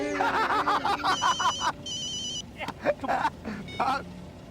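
A telephone rings for an incoming call in a home, a bright repeating electronic ringtone in bursts over a few seconds, while people talk and chuckle nearby.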